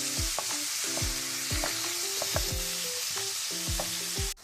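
Ground beef sizzles and fries steadily in a pan, a close, continuous crackle with repeated scraping stir strokes at a regular pace, no voices.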